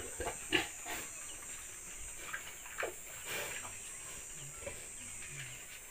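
A pig being raised on a farm gives a few faint, low grunts against a quiet background with light splashy, watery noises.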